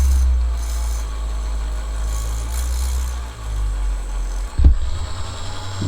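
Steady, fine sanding on the car paint of a Ford Galaxie under restoration using 8000 grit paper: a continuous soft rasping rub with a low hum beneath, a brief thump near the end, and no talking.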